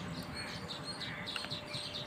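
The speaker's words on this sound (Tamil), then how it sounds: "தூக்குநாங்குருவி" Baya weaver birds call near their nests in a tree, a faint, continuous mix of high chirps and tweets over steady outdoor background noise, with no voices.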